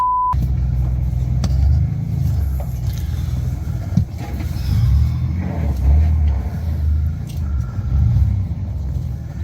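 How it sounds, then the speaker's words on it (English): A vehicle comes down an access road into a forest campsite at speed. A low engine rumble swells and fades unevenly, with a few sharp knocks, fairly loud and close, without speech. "A vehicle turns down their access road and comes flying at full speed straight into their campsite."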